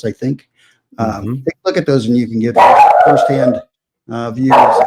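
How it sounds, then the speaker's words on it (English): A dog barks and yelps in a couple of loud bursts close by, overlapping someone speaking during an online design software talk. "Sorry about the dog."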